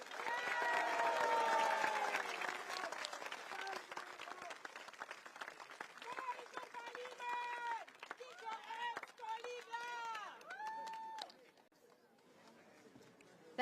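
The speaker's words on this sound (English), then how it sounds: "One more round of applause for Dr." Audience applause at a Progress Singapore Party rally for the Marymount single-member constituency in Singapore's 2025 general election: a dense burst of clapping that thins out, with crowd chatter and a voice speaking over it.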